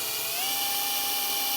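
A power drill whines at a steady high pitch while boring small starter holes into a metal amplifier chassis, one short continuous close-up burst with no talk.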